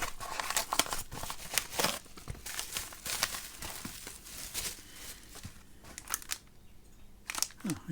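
A mail package that has already been cut open is handled, with close, faint crinkling and rustling of packaging, scattered crisp tearing and crunching sounds, and brief pauses between movements.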